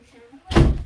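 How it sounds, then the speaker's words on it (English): A door closes with a sudden, loud thump halfway through, following quiet room sound, with a brief rumbling decay afterward. "Close the door, Baba."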